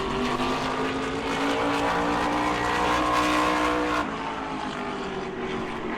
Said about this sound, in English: Craig Lutz will be our next qualifier in the orange number 82